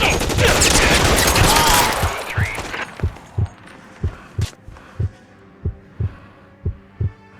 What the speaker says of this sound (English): Shots fired and officers need help